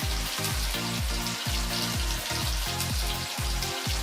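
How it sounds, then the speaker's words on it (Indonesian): Shallots and garlic sautéing in a pan for an Indonesian dish, a steady loud sizzle and crackle running throughout, with a rhythmic background beat underneath and no speech. "tumis bawang merah dan bawang putih"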